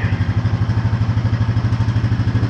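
A 2014 Honda Foreman 4x4 TRX 500 ATV engine runs close by with a steady, loud, rapid thumping idle pulse and a mechanical clatter layered on top.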